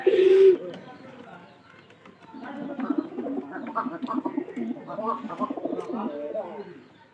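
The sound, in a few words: pigeons cooing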